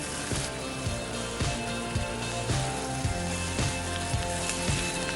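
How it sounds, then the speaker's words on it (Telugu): Skin-on chicken pieces with almonds and spices sizzle steadily in a hot pan, a dense continuous crackle with faint stirring knocks recurring underneath. "మరి అలాగే అన్ని చికెన్ ముక్కలు కూడా ఇందులో వేసేసుకోండి."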